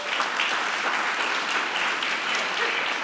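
Audience at a church Legacy Sunday service applauding steadily as congregation members are introduced one by one, a dense even clatter of many hands lasting throughout.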